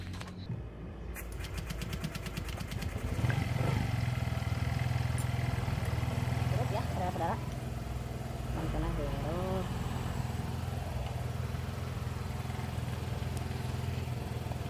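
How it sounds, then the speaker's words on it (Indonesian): A fuel-injected Honda automatic scooter engine starting up after a fuse repair, then idling with a steady close putter that runs to the end, with a voice speaking over it. "sekarang kita coba tes hidupkan ya"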